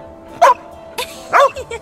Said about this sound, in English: What a lovely dog!